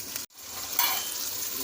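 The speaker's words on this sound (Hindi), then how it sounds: "अब हम मज़ीद चिकन को 10 मिनट तक अच्छे से भून लेंगे।" Chicken for a white korma sizzles and fries in a pan while being stirred, a steady close hiss with a brief break near the start.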